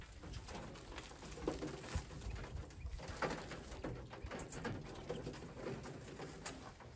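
Pigeons or doves coo in a backyard pen, soft repeated calls mixed with light pattering and rustling, faint and steady throughout.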